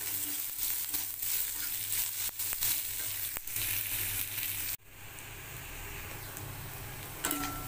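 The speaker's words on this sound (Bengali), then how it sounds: "একটু ভালো করে এটাকে আমি ভাজা করে নেব" Chopped garlic, ginger and onion sizzle and fry in a pan, a continuous crackling hiss with a brief dip and stirring scrape midway, close and steady with no talking.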